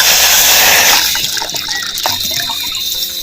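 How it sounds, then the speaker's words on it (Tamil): Plain water is poured into an idli steamer pot, a loud close gush at first that softens into gentler splashing and trickling as the pot fills, with no talking. "தேவையான அளவு நம்ம பச்சை தண்ணி ஊற்றிக்குவோம்"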